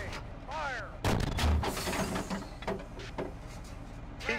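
Tank main gun firing in a combat video game, a heavy boom at about one second with a rumbling tail, followed by scattered fainter impacts while a voice calls out fire commands around it.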